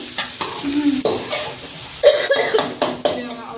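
Onions sautéing in a pan for hotel-style noodles, with a steady close sizzle broken by repeated stirring scrapes and clinks of a spoon against the pan. A voice speaks and a cough is heard over the cooking.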